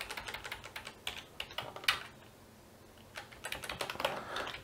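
Fingers tap quickly on a computer keyboard while writing Arduino code, in close, crisp bursts of keystrokes with a short pause in the middle.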